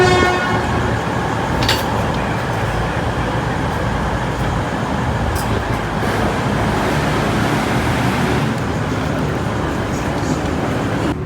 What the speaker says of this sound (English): Gotta try and get a shot of these two trains decoupling from each other.